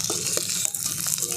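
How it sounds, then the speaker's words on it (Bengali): Fried magur fish sizzling in hot oil in a kadai as it is lifted out, with a continuous hissing fry and faint clinks close by. "মাছগুলোকে আমি ভেজে নিয়েছি, এরপর মাছগুলোকে আমি তুলে নিচ্ছি"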